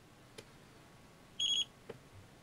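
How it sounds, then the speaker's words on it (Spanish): A portable battery spot welder with a digital display powers on with a short, clear electronic beep burst, faint and close, between a couple of soft clicks in a quiet room. "Se oye dos pitidos y aquí lo tenemos."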